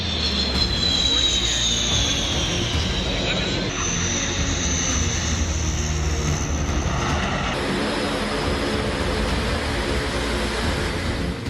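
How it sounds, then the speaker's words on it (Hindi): An Indian Air Force C-130 Hercules comes in to land on a newly opened expressway during an inaugural air show, its engines roaring loud and steady throughout with a broad rumble. "वायुसेना का ये विशालकाय C-130 हरक्यूलिस विमान देश को मिलने वाले सबसे बड़े एक्सप्रेसवे पर उतर रहा है"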